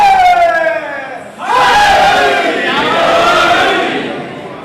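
A loud crowd at a Shia religious gathering with qasida recitation bursts into chanted slogans after a single voice leads off, the massed voices swelling and holding strong before fading slightly.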